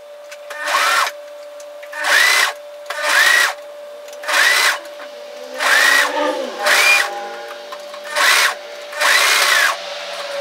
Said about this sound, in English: stitch that into place with a twin needle or your cover stitch machine